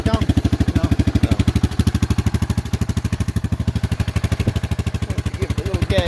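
An old vehicle engine pulsing steadily in low range on a homemade camper-frame build, given a little gas to get moving, a close, loud, even throb with faint tire rubbing underneath.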